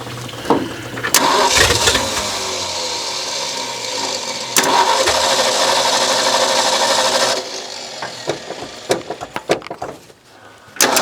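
A Ford F600 truck engine cranks and catches, then runs rough and loud for several seconds before cutting off into scattered clanks and knocks.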